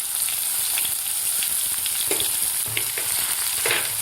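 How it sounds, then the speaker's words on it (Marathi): Chopped onions sizzle in hot oil with cumin and mustard seeds, a steady close frying hiss with occasional stirring scrapes and pops, no voices. "आता इथं मी 2 मोठे कांदे बारीक चिरून घेतलेले आहेत, ते घालायचे आहेत."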